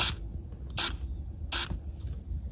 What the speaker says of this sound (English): I'm going to spray that internal nut with PB Blaster.